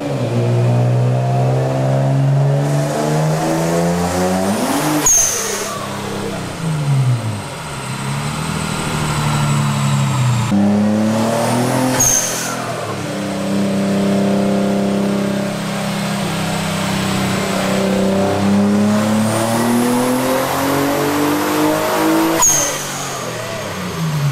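A built twin-turbo Infiniti G35 roars on a dyno, its engine climbing in pitch through long pulls, dropping off between runs and revving again, loud and close throughout.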